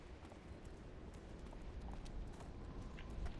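Zebra hooves pound across the ground in a video game, a faint, rapid clip-clop of galloping steps running continuously under a low, noisy background.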